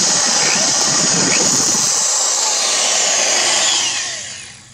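A power drill whines loudly and steadily while boring a hole into a metal pulley, then winds down near the end.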